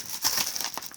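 A paper mail envelope holding trading cards being torn open, close-up crinkling and ripping of paper in quick, uneven bursts lasting about a second.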